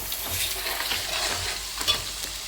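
Dried red chillies frying in a pan, a soft steady sizzle with light stirring scrapes, faint and close, no talk.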